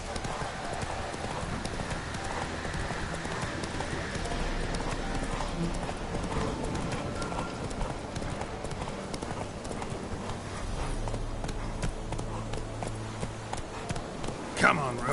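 Witcher 3 horse Roach galloping with a fast, continuous drumming of hooves throughout, mixed with game ambience and music.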